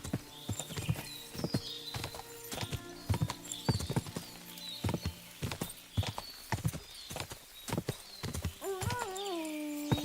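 Horse hooves clip-clopping at a steady riding pace in the video game Kingdom Come: Deliverance 2, crisp repeated hoofbeats with a horse whinnying near the end.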